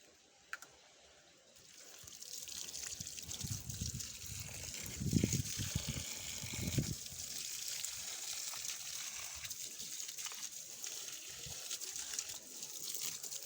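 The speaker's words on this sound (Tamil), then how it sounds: "செடிக்கு தண்ணி ஊற்றும்." Water pours and trickles onto garden plants in a steady, soft flow with a few louder gushes, close by and fairly quiet, with no voices.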